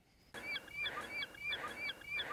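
Geese honking outdoors in repeated loud, nasal calls that come in regular bursts, several birds overlapping over a steady background hiss.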